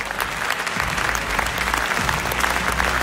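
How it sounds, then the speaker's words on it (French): An audience at a Talents des Cités awards ceremony applauds an award winner, dense sustained clapping from a large crowd, loud and steady throughout with a low rumble beneath and no speech. "Je vous demande d'applaudir Mourad El Atrache"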